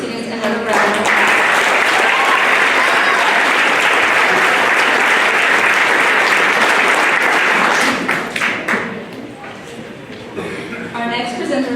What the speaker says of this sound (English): Let's give all these students another round of applause.